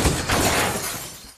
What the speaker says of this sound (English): He loses control and ends up veering off the road and crashing into a tree.